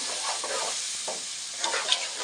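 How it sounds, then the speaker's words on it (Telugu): Tomatoes and chilli powder are stirred in a sizzling pan for fish curry, a steady broadband frying hiss with soft scraping strokes of the spoon and a couple of brief clinks near the end. "ఇప్పుడైతే టమాటాలు మనం మంచిగా ఉడికిన ఉడికినట్టే కొంచెం మనం మిక్స్ చేసుకోవాలి"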